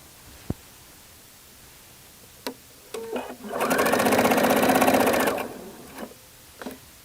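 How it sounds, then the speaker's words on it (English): A sewing machine stitches jacket yoke pieces right sides together in one steady burst of about two seconds, close and clear, with a few light clicks and handling noises before and after. "I'm going to sew those right sides together."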